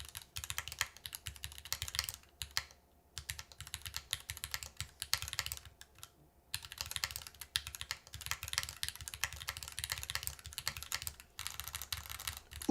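Fast, continuous typing clacks come from a mechanical keyboard in an aluminum case. The keystrokes are crisp and fairly close, broken by a few short pauses, and no one speaks.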